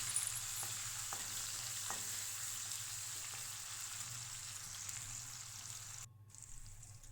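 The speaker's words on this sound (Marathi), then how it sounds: "आपली फोडणी छान बसली आहे." Tempering sizzles softly in a pan while preparing a dry okra dish, a steady low crackle with a few faint clicks and a brief dip near the end, no talking.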